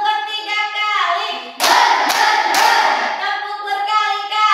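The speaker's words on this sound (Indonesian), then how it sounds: "kita mau tepuk bercikibar. Tepuk bersatu kali, tepuk berdua kali, tepuk bertiga kali" Children in a classroom clap in a patterned rhythm chant: a sung or chanted voice line, then a burst of several quick loud claps in groups, followed by more chanting.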